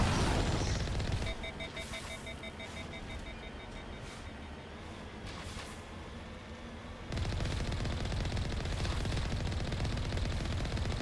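Sustained bursts of video game gunfire, loud and continuous, easing off briefly in the middle before surging again with heavy rapid shooting.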